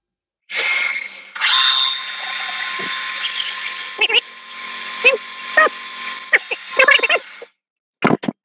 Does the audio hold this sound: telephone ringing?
no